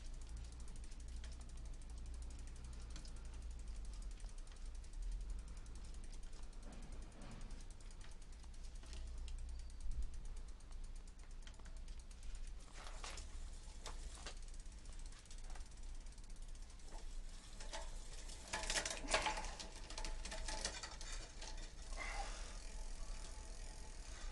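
Repaired Shimano bicycle rear derailleur running on the bike, giving a faint, continuous low mechanical whir with light ticking and rattling, a little louder in brief spots, heard close with no talk.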